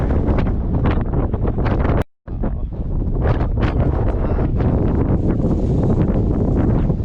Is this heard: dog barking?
no